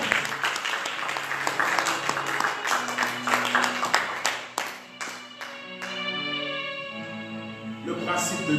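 Congregation at a church service clapping and applauding together, loud and sustained throughout, with music and voices underneath and a brief dip partway through.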